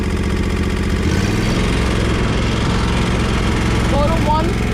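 A commercial walk-behind lawn mower engine runs steadily at idle, loud and close, with a slight shift in pitch partway through and a voice speaking briefly over it.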